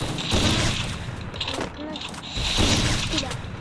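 Rapid bursts of video game gunfire crackle in two clusters, with a faint voice and game noises in between.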